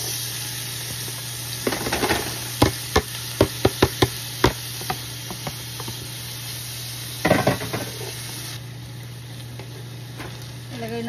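Garlic and onion sautéing in a hot pan, a steady sizzle punctuated by a quick run of sharp metal spatula scrapes and clanks, then a louder burst of frying as more goes in; no talk.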